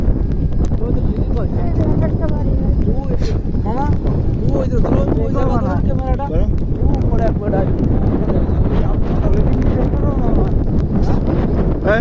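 Strong wind buffets the microphone across an open field in Murshidabad, a constant loud rumbling roar running under people talking.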